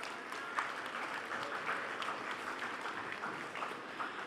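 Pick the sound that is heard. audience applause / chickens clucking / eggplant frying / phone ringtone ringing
audience applause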